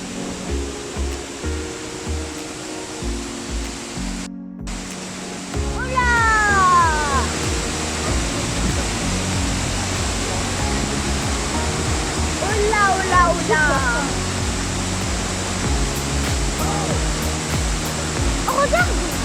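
Langevin waterfall on Réunion island roaring as a steady broadband rush of falling water, nearby and constant, with people talking over it and a dog barking.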